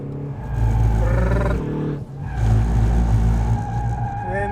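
A Ford Focus ST on a race track sliding wide in understeer, with loud sustained engine roar and tire scrub building and fading over several seconds.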